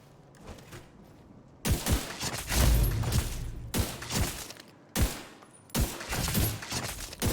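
Heavy single marksman rifle shots fired one after another at targets in The Division 2, each a loud sharp crack with a ringing tail, spaced a second or so apart.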